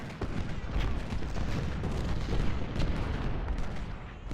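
Artillery and musket fire crackle through a Civil War battle at Cedar Mountain in the strategy game Ultimate General: Civil War, a dense run of booms and rattling volleys throughout.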